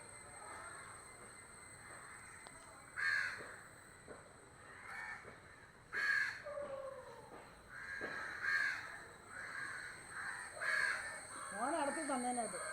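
Crows caw in short, separate bursts spread across the clip, moderately close against quiet background hum, with other small birds calling faintly and a person speaking softly at times.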